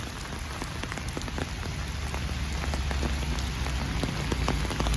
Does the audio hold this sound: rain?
yes